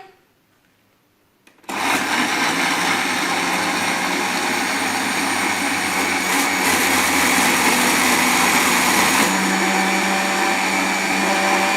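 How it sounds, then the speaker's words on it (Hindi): A juicer blender grinds mango with milk for a mango milkshake, switching on abruptly after a short quiet stretch and then roaring loud and steady without letup. "ये हम जूसर चलाने लगे हैं"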